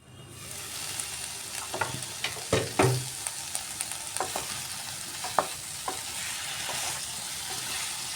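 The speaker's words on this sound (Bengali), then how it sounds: "এইভাবে আমি মশলার সাথে ফুলকপির আলু সবগুলা কষিয়ে নিচ্ছি" Spiced cauliflower and potatoes sautéing in a pan, with a steady sizzle of frying throughout and repeated scraping, stirring knocks of a spoon against the pan.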